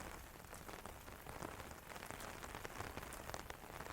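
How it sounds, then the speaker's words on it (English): Steady rain pattering on a screened panel and outside surfaces at a glamping tent, a soft, even wash of drops with small scattered ticks, no voices. "The view outside softened by the steady rain."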